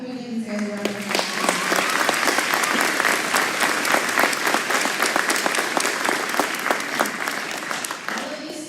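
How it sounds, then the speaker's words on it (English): A school audience at a high school and middle school spring concert breaks into sustained, dense applause for student performers, steady and loud throughout with a brief voice at the start. "can we give these guys a round of applause?"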